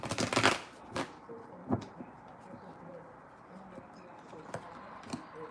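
Tarot cards shuffled in a few quick riffling bursts at the start, then sparse soft taps and card snaps, with a pigeon cooing faintly in the background.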